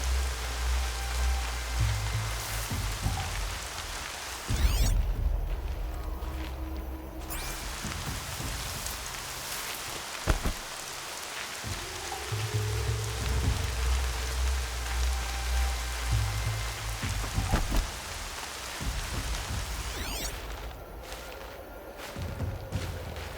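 Steady rain falls in the Horizon Zero Dawn video game, a dense continuous hiss of drops on surfaces with low rumbling underneath and a few soft thuds, filling the whole stretch.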